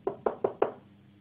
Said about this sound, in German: Ich werde noch einmal klopfen.